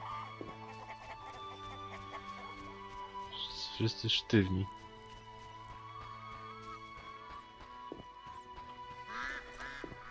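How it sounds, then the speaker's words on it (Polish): Chickens clucking and ducks quacking in the video game The Witcher, heard in two short bursts amid steady game ambience while someone talks throughout. "A ptaki żyją."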